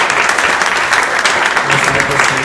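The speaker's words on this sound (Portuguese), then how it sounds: "Uma salva de palmas para o Marcelo." An audience applauds at a political talk event, a loud continuous wash of clapping that fills the whole stretch.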